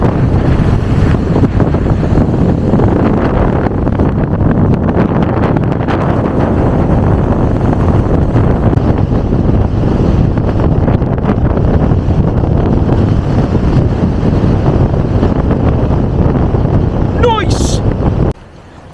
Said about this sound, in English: Very windy, I hope you can hear me.